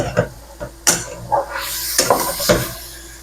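Spoon stirring chicken tinola in a hot cooking pot, a few sharp scattered clinks and scrapes against the metal at close range, with quiet gaps between them.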